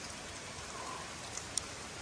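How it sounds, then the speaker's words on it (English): Heavy rain in the Scottish Highlands at Glen Coe, heard from shelter inside a cave, makes a steady, even hiss with a couple of faint drips and no voices. "It started to rain so bad."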